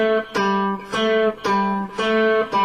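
A cello plays measure 6 of the Prelude from Bach's Cello Suite No. 1, sounding as a close, loud run of sustained bowed notes that change about every half second, with no voice over it.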